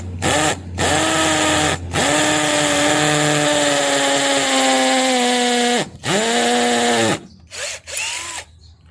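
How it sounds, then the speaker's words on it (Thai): An electric drill bores into a concrete wall to set a wall anchor, its whine running in several long bursts separated by brief pauses, loud and close, with a few short stops and restarts near the end. "แล้วเราก็ทำการเจาะนะครับ"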